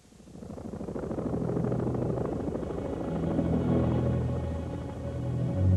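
A search-and-rescue helicopter's deep rotor rumble and engine drone fill the air, steady and fairly close, with no voices.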